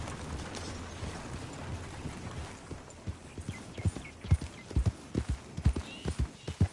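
Horse hooves clip-clop on a hard surface in Red Dead Redemption 2, starting faint and growing into a steady, louder trotting rhythm of sharp knocks.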